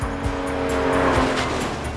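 An Alfa Romeo 164 Cloverleaf driving hard, its engine roaring loud and steady with a continuous throaty drone and a faint tyre squeal, alone without voices.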